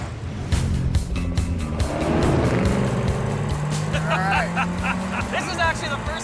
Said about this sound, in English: The car sounds terrific.